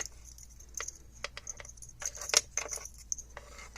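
A set of RFID keys jingles and clinks in a few quick, light bursts, close by and fairly quiet, with no voices.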